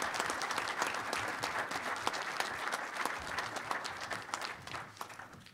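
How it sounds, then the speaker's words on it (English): Conference audience applauding panelists after a session, a dense, steady wash of many hands clapping, even and sustained, fading slightly near the end. "Join me again, please, in giving our panelists a round of applause"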